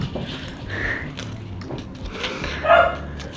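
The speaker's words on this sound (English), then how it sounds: "Ignore the dogs." Dogs indoors bark and yip in a few short, scattered bursts at moderate distance, with a louder bark near the end over a quiet room background.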